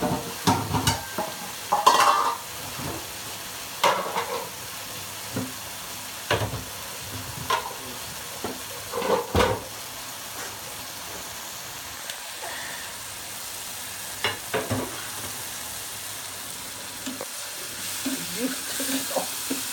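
Spice paste stir-fried in oil for a meat curry, with intermittent scraping stirs and soft sizzling across a long stretch, quiet between strokes and no talk.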